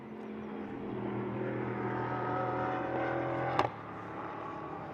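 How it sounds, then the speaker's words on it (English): GTE race cars at Portimão circuit roar past on flying qualifying laps, a continuous, fairly distant engine drone with one sharp knock or crack just past the midpoint. "the cars building up to their first flying laps, or indeed on their first flying laps as well"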